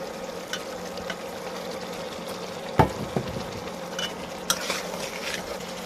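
Eggs frying in a pan of spice paste for an egg bhuna, with a steady low sizzle under occasional stirring scrapes and a couple of sharper clinks from a utensil against the pan.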